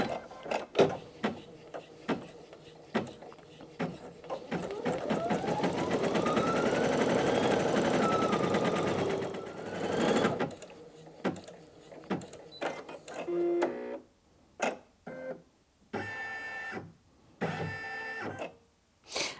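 A Brother Innov-is NV2700 embroidery machine stitches in a steady whirring, buzzing run of about five seconds. Clicks and short mechanical bursts come before and after it.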